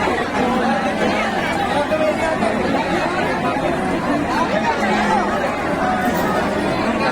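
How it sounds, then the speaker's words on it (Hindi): Dense crowd packed into a Hindu temple, a continuous loud hubbub of many overlapping voices and chatter with no pauses, close and enveloping throughout. "देख लिया कितना ज़्यादा भीड़ है"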